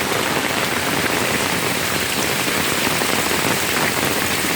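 Heavy rain falls continuously at close range, a constant even hiss of drops on the ground near a home where water tends to pool, with no talk.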